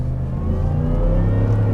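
A 2021 Ford F150 pickup, billed as the quickest in the world, roars with a deep, steady engine rumble as it accelerates hard, its pitch rising slightly, close and loud with no talking.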